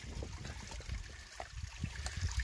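Creek water trickles and gurgles over rocks in a washed-out creek bed, a close, continuous burbling with small splashes and no speech.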